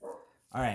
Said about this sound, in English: so we're going to ignore my dog barking.